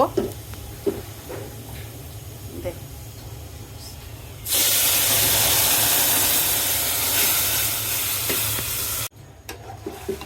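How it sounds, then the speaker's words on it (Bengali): Chopped bottle gourd hits a pan of browned onions with a sudden loud hiss that holds steady for about four seconds before cutting off, preceded by someone talking over a quieter background sizzle. "পেঁয়াজটা সুন্দর বাদামি বাদামি কালার হয়েছে এখন আমি লাউ দিয়ে দিব"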